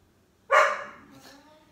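A dog barks once, loud and close, then gives a fainter second bark a moment later in an otherwise quiet room.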